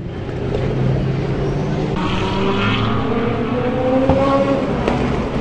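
Race cars, including Porsches and a McLaren, roar past on the Le Mans circuit during 24 Hours free practice, engines whining and shifting pitch as they pass, a continuous loud drone with no voices.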